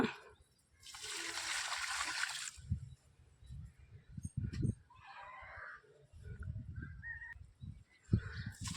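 Liquid fertilizer water poured onto potted garden plants such as mint and rose, a splashing pour at first followed by several shorter trickles and splashes, close and moderately loud, no talking.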